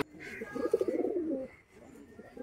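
A pet pigeon coos close by in a short rolling burst, followed by a quieter second phrase.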